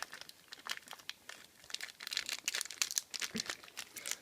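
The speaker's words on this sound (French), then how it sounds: "cette fois-ci, je vais l'ouvrir par le bas." Foil wrapper of a Pokémon trading card booster pack torn open from the bottom, close and crinkly, with bursts of crumpling and ripping that grow busier toward the end; no talking.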